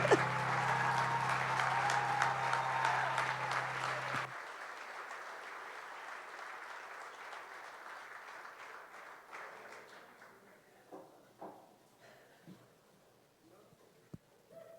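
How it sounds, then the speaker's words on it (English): Loud audience applause fills the opening seconds, then drops off abruptly and thins into scattered faint claps and room noise. "Can we give them another round of applause?"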